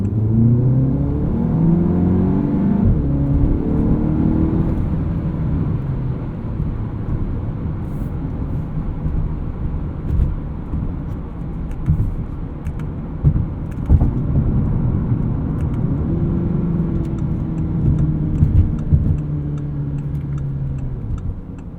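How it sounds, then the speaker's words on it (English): A 2016 Audi TT 2.0T quattro with S tronic, in dynamic mode, revs hard from inside the cabin, its engine and exhaust loud and close as pitch climbs and falls through several surges, with no talking. "Brings in a little bit more exhaust sound into the cabin."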